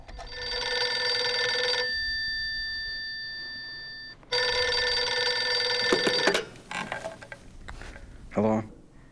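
An old telephone rings in The Beast Within video game: two long, loud, bright bell rings separated by a brief pause, followed by a few clattering handling sounds as it is answered.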